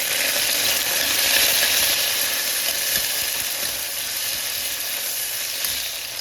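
Tomato and green chili fry in a pan with fried onion, a steady close sizzle with faint scraping and stirring clicks underneath, no voices.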